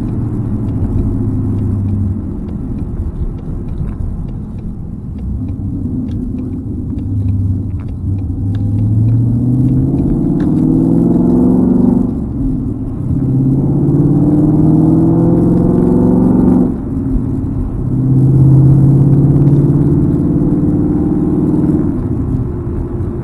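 A Ford Mustang with a very loud aftermarket exhaust rumbles deep and heavy from inside the car while driving, its low drone swelling and easing as the throttle changes, with no one speaking.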